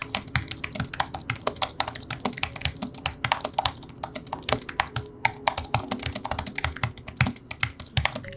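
Soft, quiet keys of a 2021 M1 iMac keyboard with 1mm travel being typed on steadily, a rapid, even patter of light clicks close by with no voices.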